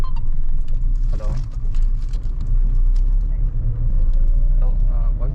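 A brand-new car on the road heard from inside, with a steady low engine and road drone running throughout under loud, close conversation.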